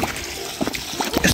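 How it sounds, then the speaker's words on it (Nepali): Clean water running to waste at a village tap or stream, a steady close trickle and splash with brief louder bursts, heard alone without talk. "यस्तो सफा पानी वेस्ट भइरहेको"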